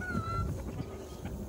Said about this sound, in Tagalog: Ayan po yung mga alagang manok ngayon namin dito